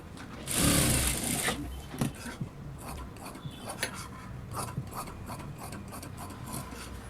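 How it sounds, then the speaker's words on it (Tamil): Sewing machine running along the edge of a blouse lining, starting with a loud rasping burst of stitching, then lighter, irregular whirring and clicking taps continuing close by with no talk. "அதே போல் எட்ஜில் நம்ம தையல் போட்டுக்கலாம்"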